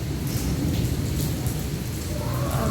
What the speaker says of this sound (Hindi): नवाबशाह में भी बहुत तेज़ बारिशें हो रही हैं